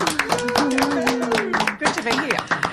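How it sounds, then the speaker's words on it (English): Studio audience applause welcoming guests Emily Kelly and Warwick Cheadle on a live radio show, dense clapping throughout with voices talking over it. "Give them a round of applause"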